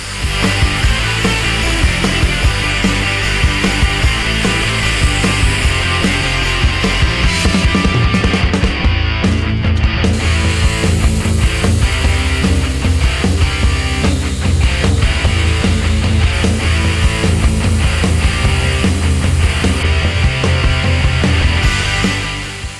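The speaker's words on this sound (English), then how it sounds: "establish it with the help of my angle grinder and the belt sander" An angle grinder and belt sander shape the side profile of a steel sword blade, a loud, continuous grinding and whirring drone that runs throughout with shifting pitch and a brief dip in the upper hiss midway.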